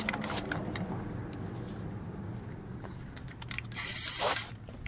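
Plasti Dip aerosol coating sprayed onto car wheel rims, a steady hiss running throughout with a louder, closer burst near the end, no talking.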